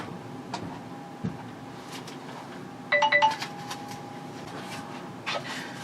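A phone chimes with a short text-message notification: a quick cluster of bright electronic tones over a low steady hum and faint room noise, with no talking.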